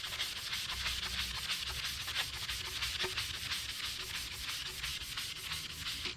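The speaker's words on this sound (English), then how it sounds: "And we're just going to start sanding that coat off." Steady, continuous sanding of the coating off a steel tumbler with fine-grit paper, a hissy rhythmic scratch of rapid back-and-forth strokes, close and even throughout, with no talking.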